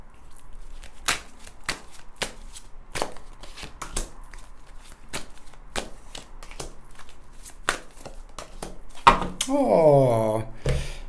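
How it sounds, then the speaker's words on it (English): Tarot cards are shuffled in a steady series of crisp riffling slaps, close and distinct, ending with a short stretch of voice. "now I'm going to shuffle these cards"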